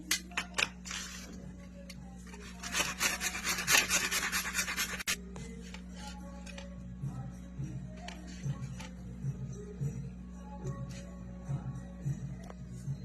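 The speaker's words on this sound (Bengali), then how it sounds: "এখানে আমি এই মোমটাকে ঘষে নেব গেটারে" A block of wax being grated on a kitchen grater for homemade foot cream gives off short, close, raspy scraping bursts separated by quieter pauses.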